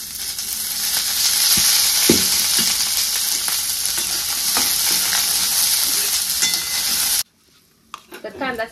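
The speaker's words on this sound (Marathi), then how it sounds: "तर कांदा भाजण्यासाठी पण मी थोडंसं तेल ओतून घेते।" Chopped onion frying in a little oil in a wok, a steady loud sizzle with stirring scrapes and clacks throughout, cutting off abruptly near the end.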